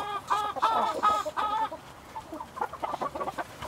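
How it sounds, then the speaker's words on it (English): Icelandic chickens cluck close by in a burst of repeated throaty calls, followed by softer, scattered clucks and chatter. "I see three of the four Icelandic chickens."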